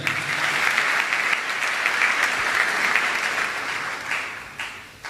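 A church congregation claps together in a loud, dense, steady burst that goes on for several seconds and then thins out and fades near the end.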